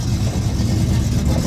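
A speedway race car at Dubbo Speedway gives off a steady, rumbling engine roar with a dense low-end drone and broadband hiss. It holds a fairly even level throughout, with no clear revving swells.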